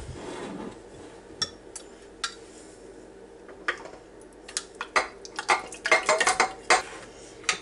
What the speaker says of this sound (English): Let's just stir it up just a little bit.